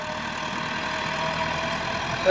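A 2002 model tractor engine idles at a farm yard where chopper machine trolleys are loaded, giving a steady, even rumble that holds at a constant level throughout, with no one talking.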